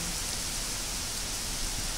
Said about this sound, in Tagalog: Kasi nga umuulan.